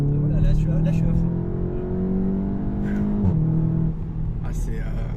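A Volkswagen Golf 7 GTI Clubsport with 300 horsepower pulls at full throttle, its engine droning loud and steady with slowly rising pitch from inside the car, while someone talks over it.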